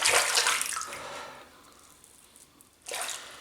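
Water rushing from a bathroom sink as it drains during a wet shave, a loud splashing gush at the start that fades, then a second burst near the end, with no talk.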